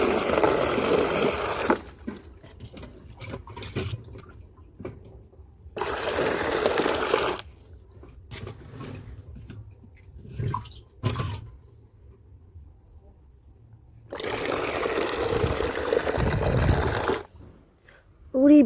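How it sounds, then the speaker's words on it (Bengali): Water scooped from a bowl and poured into a basin for a small goldfish pond, heard as three loud, close splashing pours separated by quieter gaps in which a person talks. "এইখান থেকে আমি জল এইভাবে গামলায় তুলে নেব"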